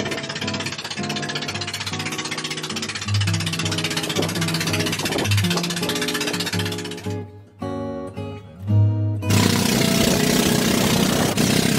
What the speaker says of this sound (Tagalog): Nakasakay na kami sa aming bangka papunta sa Corridor Island.